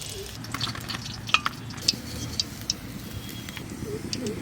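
Chital fish dumplings fry in hot oil, a steady crackling sizzle broken by metallic clinks and taps as pieces are lifted from the pan with a utensil.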